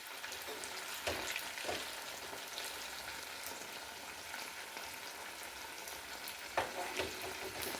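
Madhuman-leaf parcels of chicken paturi sizzle softly and continuously in hot oil, with a few sharper scrapes and bumps as they are stirred and flipped.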